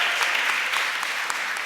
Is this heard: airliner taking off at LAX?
no